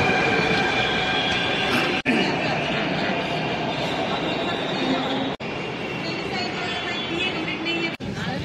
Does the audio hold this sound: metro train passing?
yes